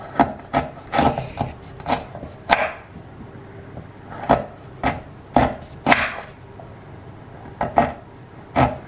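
A kitchen knife works through a tough horseradish root, making sharp crunching, scraping strokes in irregular bursts, close and fairly loud, with no talking.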